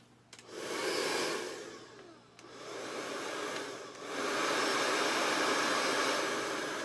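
Blow dryer drying a layered paper flower craft piece, a close steady whirring roar that starts after a few handling clicks, dips briefly twice as the airflow shifts, then holds loud and even.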